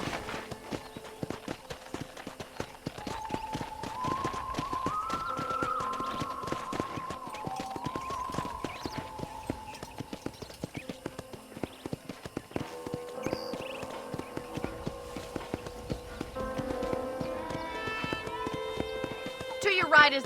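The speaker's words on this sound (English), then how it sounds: "I picked out a fine horse for you." Horse hooves trotting in the video game Red Dead Redemption, a steady rhythmic clip-clop running throughout, with character dialogue and music playing over it.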